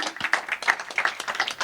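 Brief audience applause after a talk on cybercriminals and investigators, a short patter of scattered individual claps at moderate volume, close by.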